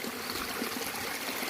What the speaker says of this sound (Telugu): చిన్న వాటర్ స్ట్రీమ్ అనమాట.